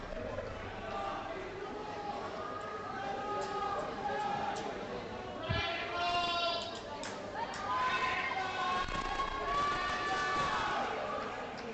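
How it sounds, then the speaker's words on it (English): Teammates cheering on a swimmer during a junior varsity heat at a high school boys swim and dive meet, Rosemount versus Apple Valley. Yells and shouts echo through an indoor pool hall under steady announcer talk. "Good cheering on here by his teammates."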